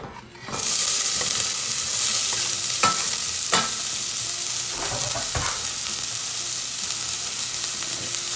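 Onions sizzle and fry in hot oil in a pan, a loud, steady hiss that runs throughout with a few clinks and scrapes of stirring, close up and with no voices.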